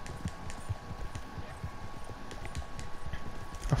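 Horse hooves clip-clop steadily in Red Dead Redemption 2 as a rider travels along, a continuous rhythmic trotting patter at moderate volume with faint background ambience and no talking.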